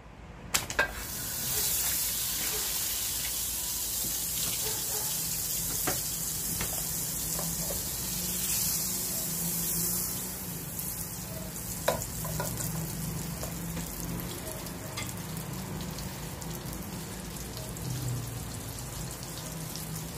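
Butter and garlic fry in a pan, giving a long, steady close sizzle with scattered crackles and an occasional clink of a utensil, continuing evenly without speech.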